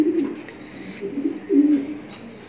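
A pair of Afshan Grizzle racing pigeons cooing close by, low throaty coos rising and falling in short repeated phrases.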